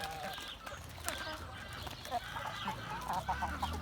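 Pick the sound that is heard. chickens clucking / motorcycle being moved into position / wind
chickens clucking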